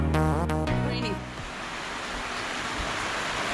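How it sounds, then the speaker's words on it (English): Rain falls on a boat, a steady, even hiss of broadband noise that settles in after a short stretch of voices at the start and continues without a break. "Raining."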